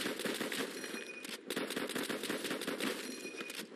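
Gunfire aimed at zombies in the World at War custom zombies mode, sounding as a steady, fairly quiet stream of rapid shots that runs nearly without pause, with one brief gap.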